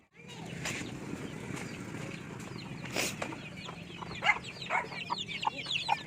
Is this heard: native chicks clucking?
yes